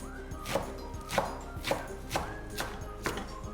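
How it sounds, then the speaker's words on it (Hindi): A knife roughly chops mustard greens (sarson leaves) on a cutting board for Punjabi saag, with about seven distinct, fairly quiet chops coming at a steady, unhurried rhythm and no talking. "ये पकड़ी और यूं चाकू चला दिया"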